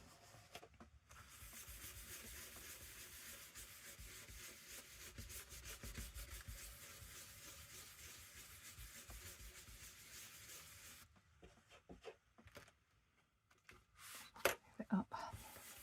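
Ink is rubbed through a stencil during mixed-media crafting: a continuous close, scratchy rubbing for about ten seconds, then quieter intermittent scrapes and handling with faint low voices.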